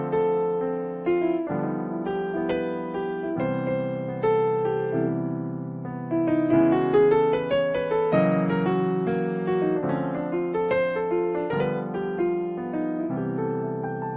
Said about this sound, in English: I'm going to start by playing a regular 2-5-1 in C,